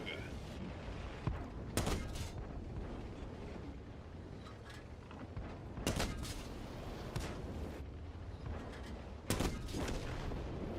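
Several loud, sharp tank cannon blasts in World of Tanks ring out a few seconds apart over a steady battlefield rumble, with voices talking underneath.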